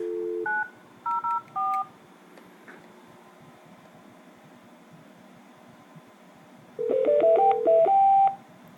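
An IP phone dialing an extension on speakerphone: a short series of DTMF key tones near the start, a quiet gap, then a faster run of rising dialing tones and a held tone toward the end, with no talk.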